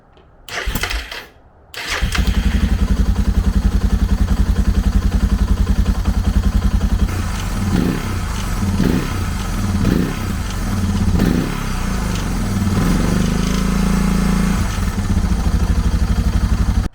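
A Suzuki DR650 motorcycle with a freshly rebuilt carburetor cranks briefly, then fires and settles into a loud, steady single-cylinder idle with a few throttle blips, recorded close by with no talking.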